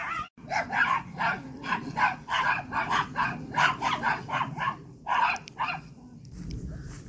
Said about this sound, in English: The chaos the dogs bring.